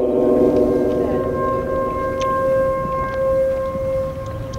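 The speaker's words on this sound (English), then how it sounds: "as soon as this siren's done" A loud outdoor warning siren holds a steady wailing tone throughout during an outdoor rally in Iowa, droning continuously in the open air.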